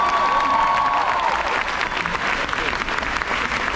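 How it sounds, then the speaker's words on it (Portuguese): A rally crowd in Salvador, Bahia applauds strongly, dense sustained clapping with some cheering, loud at first and easing slightly toward the end. "isso vale uma salva de palmas bem forte onde você estiver"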